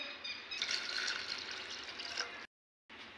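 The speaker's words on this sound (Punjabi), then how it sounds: "ਆਪਾਂ ਇਹ ਦੋ ਗਲਾਸ ਪਾਣੀ ਨਾਪ ਕੇ ਪਾਤਾ ਹੈ ਜੀ" Two measured glasses of water poured into a cooking pot while making jaggery carrot sweet rice, a steady close splashing pour that cuts off briefly near the end before resuming.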